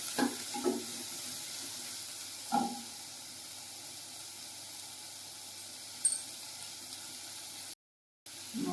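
Onion chutney ingredients frying in a pan make a soft, steady sizzle, broken by occasional stirring scrapes and clinks and one brief gap of silence near the end.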